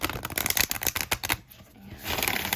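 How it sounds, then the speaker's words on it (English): A deck of large matte Halloween Oracle cards is shuffled close by in quick riffling flutters, goes quiet for about half a second, then starts a softer rustle. "go ahead and shuffle them. They shuffle quite nicely."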